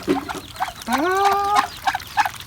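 Chickens and ducks at a morning feeding on a farm make a loud rising call and short clucks nearby, in an irregular run of calls.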